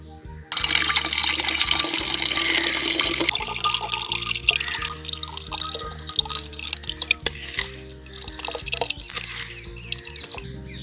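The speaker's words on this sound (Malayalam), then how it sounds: "നമ്മൾ ഒരു ഭരണി എടുത്ത് ഇത് അരിക്കി ഒഴിക്കുന്നു." Liquid for homemade rose apple wine strained and poured into a jar, a steady close trickling splash that runs loud and continuous before tapering into softer irregular drips.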